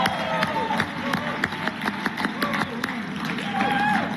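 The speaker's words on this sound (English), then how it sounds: "So everybody give yourself a big round of applause." A bootcamp group applauds itself in a busy room, a dense burst of clapping with crowd voices mixed in, steady throughout with a few sharper claps standing out.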